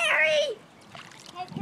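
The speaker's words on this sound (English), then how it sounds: "Splashing that foot." A child's foot splashes in water: a brief, soft splash after a voice, close by and over quickly.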